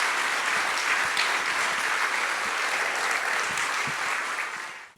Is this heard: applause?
yes